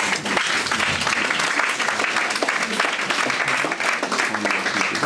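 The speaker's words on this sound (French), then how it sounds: "Vous pouvez continuer tout de suite à applaudir" A large audience at a Senegalese event claps loudly and continuously, a dense, even wall of applause with no break.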